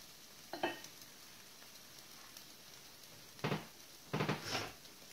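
Onion and potatoes frying in a pan for a Spanish omelette: a faint low sizzle with a few brief louder bursts of crackling and stirring toward the end.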